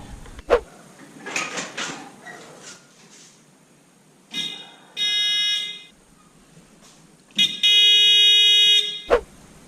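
A homemade magnetic door alarm buzzer sounds in two loud, steady electronic bursts, each lasting over a second, with softer clicks and shuffling noise between them.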